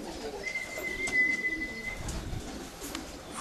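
A racing pigeon arriving and settling at the loft during a race return, with soft coos and light bird calls over quiet outdoor background, fairly faint and without speech.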